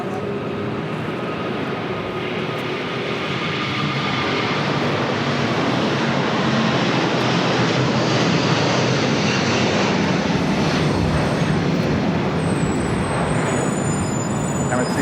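An airliner comes in on runway 25 Left at LAX with a steady, broad engine roar that swells gradually and stays loud and continuous throughout.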